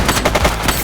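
Rapid gunfire in The Precinct, a police video game, with several quick shots in a short burst at close range and loud, with no talking.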